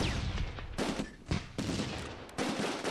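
Gunfire from the video game Close Combat II, bursts of rifle and automatic fire with a bazooka shot among them, loud sharp volleys repeating in clusters across the battle with no talk.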